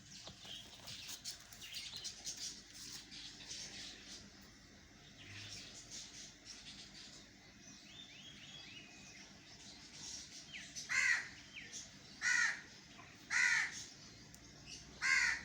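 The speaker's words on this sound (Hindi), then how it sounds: "मॉर्निंग में परिंदे चहचहा रहे होते हैं" Crows caw in a series of loud, repeated calls over a steady backdrop of small birds chirping in a garden in the morning, with the caws growing sharper and more spaced toward the end.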